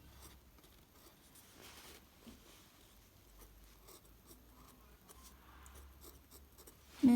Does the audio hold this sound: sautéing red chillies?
no